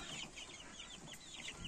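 Young chickens, mostly cockerels, from an incubator hatch, chirping and clucking together in a steady, close flock chatter with repeated short peeps and no speech.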